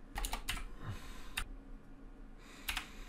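Computer keyboard typing in short bursts of quick key clicks separated by pauses, close and fairly quiet, with no voices.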